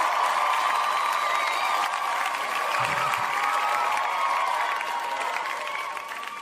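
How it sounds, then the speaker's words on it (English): An audience at a live film-talk show breaks into applause mixed with cheering and a few whoops, a steady, fairly loud burst that tapers slightly at the end. "Another round of applause for surviving another week"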